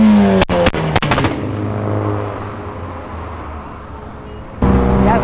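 A Volkswagen Jetta turbo revs hard and launches, with a few sharp pops, then a loud sustained roar as it accelerates, and a burst of noise at the end.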